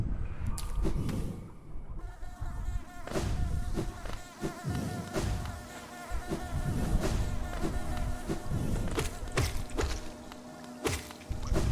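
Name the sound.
buzzing bees in the video game Hollow Knight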